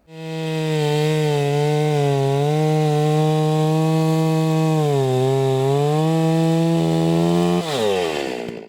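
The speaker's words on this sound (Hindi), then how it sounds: "इस चेन आरी से काटने का कार्य तेजी से एवं आसानी से किया जा सकता है।" A 2-stroke chainsaw used for farm cutting roars loudly and continuously, its engine pitch wavering slightly and then dropping and rising again near the end, with no voices over it.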